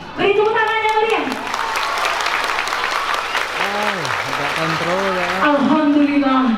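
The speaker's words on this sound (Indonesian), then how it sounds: "Beri tepuk tangan yang meriah." A crowd at a Tabligh Akbar gathering at an Islamic boarding school in Merangin claps loudly and steadily to welcome Ustadz Abdul Somad, while an amplified voice speaks and chants over the applause at the start and end.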